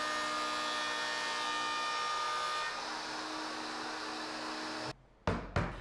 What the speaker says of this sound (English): I set up a jig the thickness of the shelf to route out the bridle joint using a pattern bit in the router